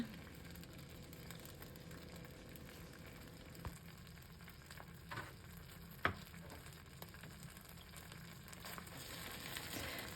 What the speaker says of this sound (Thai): เติมน้ำมันลงในกระทะนะคะ จากนั้นก็ใส่ปลากระป๋องลงไปผัดนะคะ